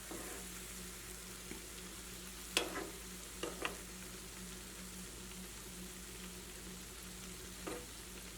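Wheat flour and egg batter snack frying in hot oil at medium flame, a steady low sizzle throughout with a few sharp louder crackles and pops, close by, no voices.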